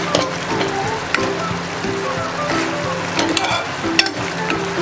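Colocasia leaf (alu) curry being stirred in a pan, a steady soft sizzle with repeated scraping and clinks of the spoon at irregular intervals, close by and with no talk.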